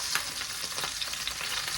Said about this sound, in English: The zucchini is frying.